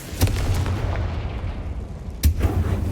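Bombarda blasting-spell explosions in the Hogwarts Legacy video game, two sharp booming blasts about two seconds apart over a continuous low rumble, loud and close.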